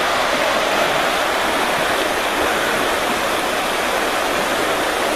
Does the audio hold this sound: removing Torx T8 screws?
no